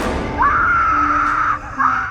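A loud recording of children chanting and screaming plays outside a house at night: one sustained high wailing scream, then a shorter second cry, harsh and close to the doorbell camera.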